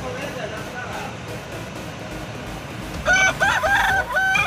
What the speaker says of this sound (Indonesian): Ada ayam nih.